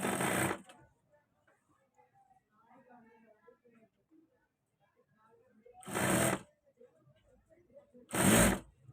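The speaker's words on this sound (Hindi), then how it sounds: "अब हम यहाँ से आगे सिलाई शुरू करेंगे।" A sewing machine stitches buckram and elastic onto a trouser waistband in three loud, close bursts of rapid whirring, one at the start and two near the end, with a person speaking quietly in the gaps.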